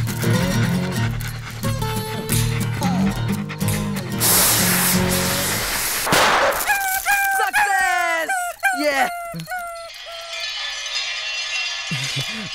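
A dog whimpers and whines in high, wavering cries, with sharp barks and yelps following. A loud hiss of spray sounds partway through, and people talk over much of it, all close and loud, in a Hindi-dubbed film scene.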